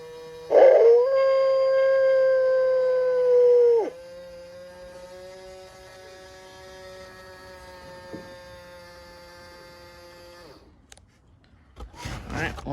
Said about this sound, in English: it just raises its head and makes the classic wolf howl